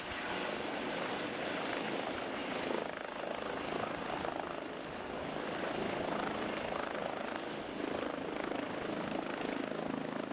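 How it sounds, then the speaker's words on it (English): A helicopter's rotor and engine drone steadily throughout, a dense, continuous thrum at moderate distance with no break. "if you can send the helicopter"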